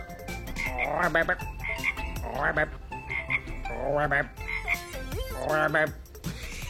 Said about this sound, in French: Vous voyez la grenouille?